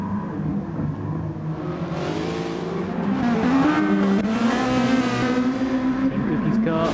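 A race car engine in a sim racing game at the Sardegna C circuit drones and rises through the gears, loud and steady, while a commentator talks over it.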